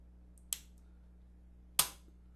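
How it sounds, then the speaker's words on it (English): Two crisp mechanical clicks from the trigger of a Smith & Wesson FPC 9mm rifle with a 16.25-inch barrel as it is released and reset, about a second apart against a low steady hum. "now I'm going to release it and see what the trigger pull reset position is"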